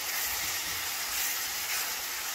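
Green chili and ginger sizzle in a hot pan for zucchini sabzi, a steady, loud hiss of frying that holds evenly throughout with no talk.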